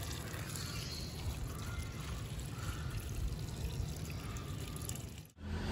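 Water pours steadily onto garden soil outdoors, a continuous close rushing wash that runs for several seconds and then cuts off abruptly near the end.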